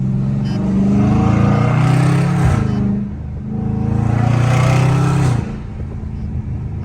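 A loud Dodge Charger Scat Pack V8 revs hard twice while driving in traffic, each long, deep, rising roar of the engine ending in a sharp drop, close and dominant.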